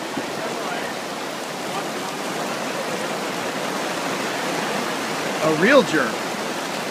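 Heavy rain pours down on an outdoor wedding ceremony setup, a dense, steady hiss that fills the whole clip, with people talking close by and a louder voice near the end.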